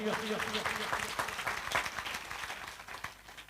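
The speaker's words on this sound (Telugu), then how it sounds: "గట్టిగా చప్పట్లు, గట్టిగా." A church congregation at a gospel festival applauds in a steady wash of clapping that stays fairly even throughout and sounds moderately distant.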